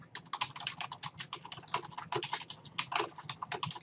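Rapid, dense clicking of a computer keyboard as someone types text while working in Photoshop; close, steady keystrokes with no talking.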